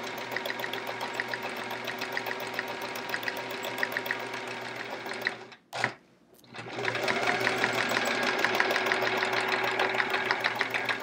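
A sewing machine doing free-motion quilting on a chevron quilt, tracing one big circle out to the edge, runs in a steady, close, fast rhythmic chatter for most of the clip, stopping briefly in the middle before resuming.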